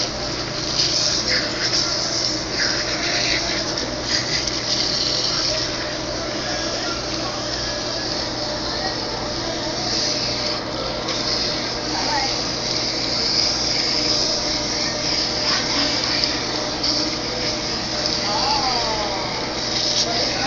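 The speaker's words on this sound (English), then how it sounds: "She's going to rinse in just a second, take all of this out of here." Water streams steadily onto hair as shampoo is rinsed out of tight curls during a salon wash. The spray makes a continuous, even rush that stays close and fairly loud throughout, with faint voices murmuring underneath.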